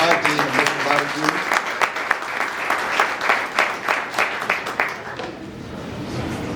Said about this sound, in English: A big round of applause for our team and Mr. Barbecue.